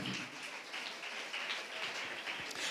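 A church congregation claps hands together in thanks, a steady dense patter of many hands sustained throughout, fairly loud and close with no clear talk over it.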